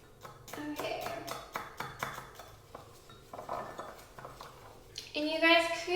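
Clinking and tapping of a utensil stirring a homemade sugar scrub mixture in a container, irregular rhythmic knocks close by, quiet overall, with a louder burst near the end.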